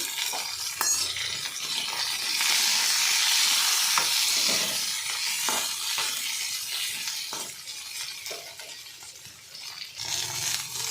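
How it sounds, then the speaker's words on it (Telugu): Onion and green chillies frying in a pan give a steady, close hiss of sizzling oil, broken by occasional scrapes and taps of a stirring spoon, with no voices. "ఉల్లిపాయ వేస్తున్నాం. పచ్చిమిర్చి ఎక్కువ వేగే అవసరం ఏం లేదు."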